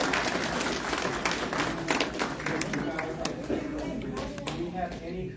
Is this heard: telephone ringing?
no